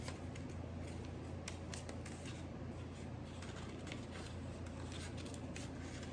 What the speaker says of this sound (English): So I'm just gonna cut out my tracing.